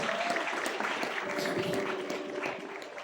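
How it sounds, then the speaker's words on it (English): An audience gives a round of applause for actors Kathryn Bernardo, James Reid and Maja Salvador at a Netflix film event, a fairly soft, continuous wash of clapping. "Please give them another round of applause."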